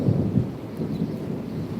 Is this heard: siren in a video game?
no